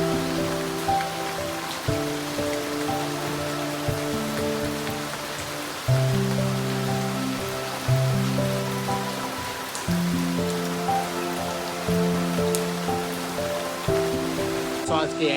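Rain falls steadily in a Bangladeshi village, a soft continuous patter heard beneath gentle tonal music throughout.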